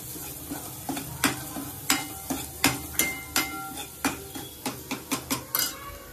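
Spoon stirring spices in a pan of brinjal curry, a close, loud series of regular metallic clanks and scrapes against the pan over a faint sizzle, with no talk.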